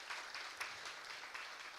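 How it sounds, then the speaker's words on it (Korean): A church congregation at a university-group Sunday service claps to congratulate invited friends after a prayer, a steady broadband wash of many hands at a fairly quiet level, with no talking over it. "오늘 기도를 따라 우리 초대된 친구들 박수 한번 칠까요?"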